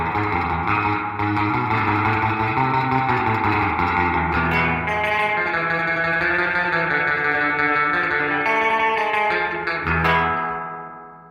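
An electric guitar plays sustained chords and notes through a modern reverb pan with vintage springs, drenched in a splashy, washy spring reverb that rings out and fades at the end.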